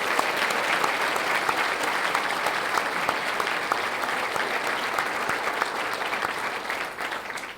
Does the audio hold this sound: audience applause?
yes